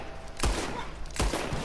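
Two gunshots in Red Dead Redemption 2 free-aim play, sharp cracks about three-quarters of a second apart, moderately loud over a low background hiss.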